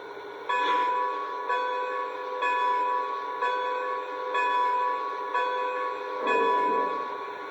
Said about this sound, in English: Next, here is the bell.